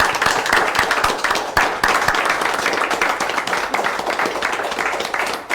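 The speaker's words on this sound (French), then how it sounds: "Je propose qu'on s'applaudisse un coup quand même." Festival volunteers at the tenth-anniversary celebration applaud themselves. The dense, continuous clapping from a crowd fills the whole stretch at a fairly close, even level.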